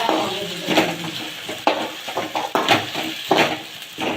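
Small village mushrooms being stirred in a cooking pot, with repeated utensil scrapes and clinks against the metal at an irregular rhythm, close and fairly loud, over a faint sizzle.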